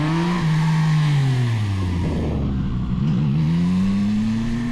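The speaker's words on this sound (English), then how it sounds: "the exhaust note doesn't sound bad at all, the stock exhaust" A CF Moto motorcycle on its stock exhaust drones steadily as it is ridden, the engine note rising and falling with throttle changes, loud and continuous throughout.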